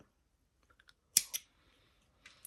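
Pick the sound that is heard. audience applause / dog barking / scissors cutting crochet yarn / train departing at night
scissors cutting crochet yarn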